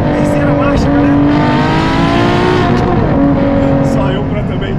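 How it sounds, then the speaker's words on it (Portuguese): A Ferrari LaFerrari accelerating in third gear through a curve, its engine a loud, continuous, rising whine with shifting harmonic tones close up, while someone talks over it. "Só eu pra também acelerar numa curva, galera"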